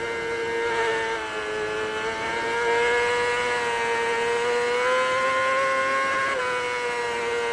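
A 600cc racing motorcycle engine screams near its maximum revs, close to 16,000 RPM, held at a steady high-pitched wail with brief dips as it shifts through the gears, loud and continuous.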